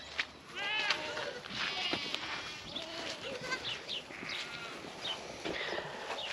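Goats bleat repeatedly at close range around a farm pen, several overlapping calls of varied pitch rising over a busy background, with some voices talking in between.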